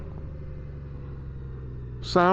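A steady low Yamaha pushrod motorcycle engine rumble idles throughout, joined near the end by a louder burst of harmonic sound.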